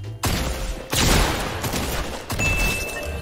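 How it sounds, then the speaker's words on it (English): Gunshots ring out in the Fortnite video game, a sharp burst of rapid shots with booming echoes repeating across a few seconds. "See how he shot me through the tree?"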